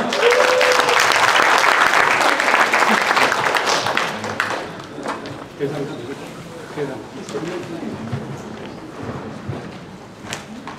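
An audience at a church evangelism seminar claps loudly for a speaker coming forward, a dense burst lasting about four seconds before it thins out into scattered sounds, footsteps and quiet talking.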